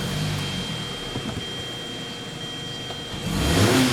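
A Hyundai car with a throttle-control fault, its engine running at a steady mid-pitched hum with a constant whine, then swelling louder near the end as it restarts or revs.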